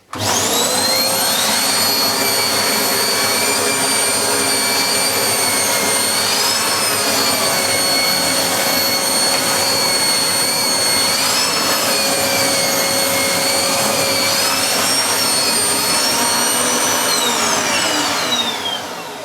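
A Hoover Blaze bagless cylinder vacuum cleaner runs on stairs with a loud, steady motor whine and slight pitch shifts as the nozzle moves, then winds down at the end.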